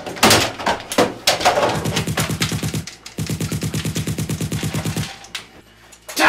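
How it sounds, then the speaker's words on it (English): M4 carbine automatic gunfire: an opening volley of loud shots, then two long, rapid, evenly spaced bursts separated by a short pause, close and sharp, with a final clack at the end. "That was the sound of my M4 carbine."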